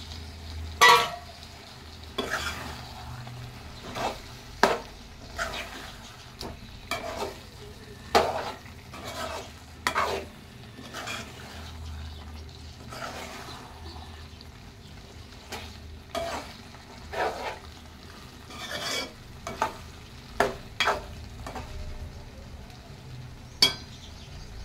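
A spoon stirs fried eggs into a thick capsicum and tomato masala curry, giving a soft sizzle with scattered, irregular scrapes and clinks against the pan, close by and with no speech.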